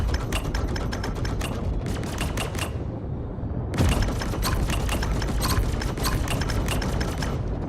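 Video game guns firing in rapid automatic bursts, dense rattling volleys with a short pause in the middle before firing resumes, loud and close, no talking.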